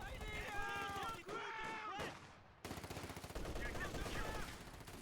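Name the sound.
squads firing guns in Company of Heroes 2 video game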